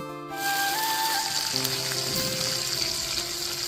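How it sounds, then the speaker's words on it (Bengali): Cumin seeds, black cumin and a dried red chilli sizzle steadily in hot oil, a loud continuous frying hiss that bursts in near the start and carries on alone without talk. "এবার তেলে ফোড়নে দিয়ে দেবো এক চামচ জিরে হাফ চামচ মতো কালো জিরে একটা শুকনো লঙ্কা"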